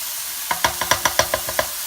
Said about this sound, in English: my onions, mushrooms, and garlic are nice and sauteed